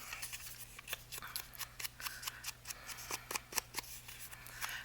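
Small scissors fussy cutting around the edges of a paper piece for a soft spine journal, a quick run of crisp snips in an irregular rhythm, close and quiet, with no talking.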